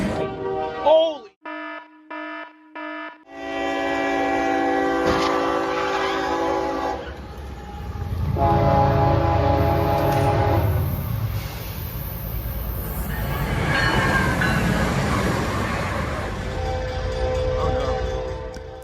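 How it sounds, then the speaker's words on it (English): A rushing train passes through Versailles, Ohio, opening with a few sharp horn blasts, then a long loud roar of wheels and cars rolling past up close, with sustained whining tones over the rumble. "a rushing train passed through Versailles, Ohio"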